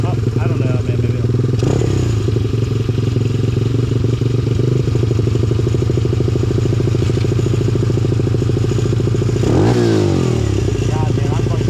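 A pit bike motorcycle engine runs steadily throughout, with a loud mid-range drone and rough clatter and a surge of revving near the end, close by with a voice speaking over it.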